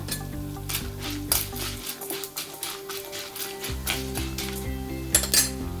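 Peanuts fry in a hot pan for a ridge gourd roti chutney, sizzling and popping with crackles and occasional clinks of a utensil against the pan, close and fairly quiet.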